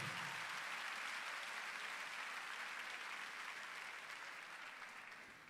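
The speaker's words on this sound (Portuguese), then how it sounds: "Uma salva de palmas a Jesus." Church congregation applauding at a worship service, a steady dense wash of clapping that holds for several seconds and slowly tapers off toward the end, with no talk over it.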